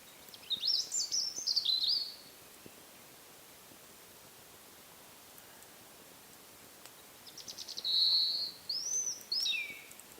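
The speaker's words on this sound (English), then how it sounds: "you can still hear them twittering away." Birds twitter in the woods around a bushcraft wildcamp: two bursts of lively high chirping, one early and one near the end, fairly faint over a steady hiss, with quiet between.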